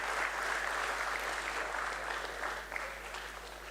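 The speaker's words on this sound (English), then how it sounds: "Can we please have a big round of applause?" An audience applauds at a celebration marking 40 years of the Sensex, a steady wash of clapping from a crowd that slowly thins toward the end, with a low steady hum beneath.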